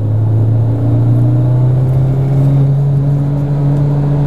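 A BMW E30 M3 engine drones steadily while driving, a loud, continuous in-cabin hum with a strong low tone and faint rises in revs, no talking over it.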